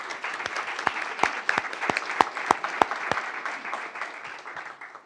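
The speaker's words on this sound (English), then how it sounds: "Let's give a hand clap for Didi." An audience at a school board meeting claps, a small group whose distinct, separated hand claps ring out in an uneven rhythm and then fade.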